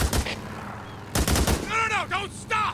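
Rapid bursts of gunfire in the Days Gone video game, two loud clusters of close shots separated by a brief lull, with a voice talking over the later part.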